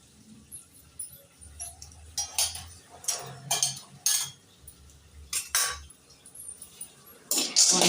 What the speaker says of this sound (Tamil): இப்போ வறுக்க ஆரம்பிச்சிடலாம்.